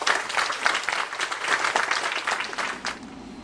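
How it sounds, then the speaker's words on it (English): Parents and guests at a school open house for a preschool applaud the Stocker family, a lively burst of many hands clapping close by that swells and then tapers off toward the end. "I'd just like to publicly give them a huge round of applause."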